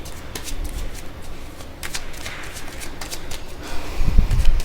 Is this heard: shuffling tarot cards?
yes